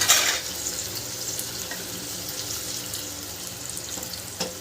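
Coconut water is poured into chicken cooking in a pan, a steady liquid pour and gentle sizzle that starts with a brief splash and runs on softly at a moderate level.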